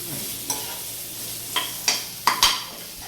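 Spices, onion, tomato, ginger-chili paste and garlic tempering in hot oil for dal fry give a soft, steady sizzle, broken by several sharp spoon scrapes and clinks against the pan as it is stirred.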